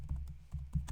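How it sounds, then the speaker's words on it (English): Keys clack on a computer keyboard in a short burst of about four quick, close taps, fairly quiet, with no voices. "I'm just going to type in this thing."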